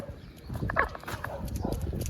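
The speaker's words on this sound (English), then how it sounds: "Oh, somebody's barking over there." A dog barks somewhere off at a distance, faint repeated woofs over low background noise with no one talking.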